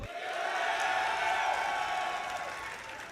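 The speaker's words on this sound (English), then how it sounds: "give it up for IdrA now" Crowd at a StarCraft tournament tiebreaker series cheering and applauding for a player, a steady, dense roar of claps and whoops holding loud for about three seconds with no talk over it.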